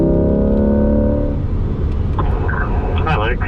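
A Corvette engine drones loudly from inside the car on a race track, a steady tone that shifts as the throttle opens, with faint voices under it.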